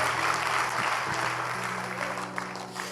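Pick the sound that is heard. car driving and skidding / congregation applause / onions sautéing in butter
congregation applause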